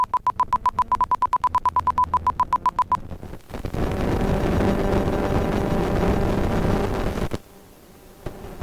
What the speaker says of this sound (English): mixture rich, throttle coming up